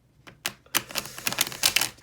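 An oracle card deck being shuffled by hand, a quick run of crisp riffling flutters and taps building to a dense burst, close and fairly loud with no voices.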